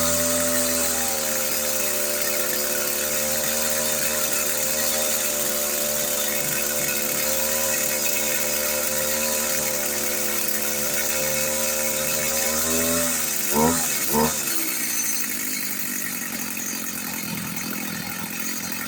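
Stihl FS45 string trimmer with a freshly rebuilt carburetor, its small two-stroke engine idling steadily and buzzing close by, with a couple of brief throttle blips near the end before it settles lower.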